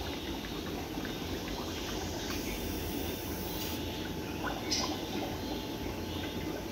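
Bacteria culture liquid is poured back into a home aquarium with a steady, soft, continuous splash and trickle that stays close and even.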